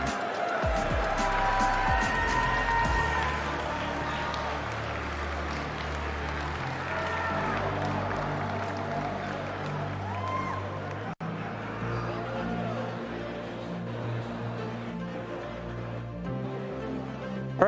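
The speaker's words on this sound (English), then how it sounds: "All right, everybody, please, one more time, round of applause" A large crowd applauds and cheers continuously in a big hall at a fighting-game tournament main stage, with a steady roar of clapping and a low hum underneath.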